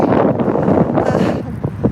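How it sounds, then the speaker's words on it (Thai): Strong wind blasts the microphone while cycling in a heavy, rumbling roar, with a few brief rustles and bumps breaking through toward the end. "ลมแรงมากเลยค่ะ"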